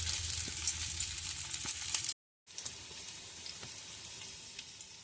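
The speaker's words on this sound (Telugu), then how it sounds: "ఇట్లా చిన్న చిన్నగా కట్టెట్లా చేసుకొని ఆయిల్లో వేసుకొని 2 సైడ్స్ కాలనివ్వాలి." Small poha and spinach cutlets shallow-fry in oil with a steady, gentle sizzle up close, cut by a brief moment of silence midway before the frying hiss resumes.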